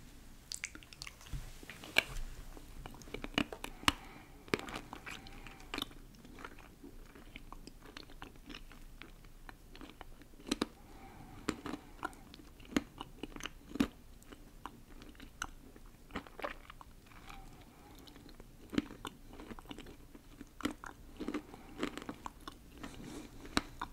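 Crunchy Indian snack chips are eaten close to the mic, with steady loud crunching and chewing bites repeating throughout, no talking.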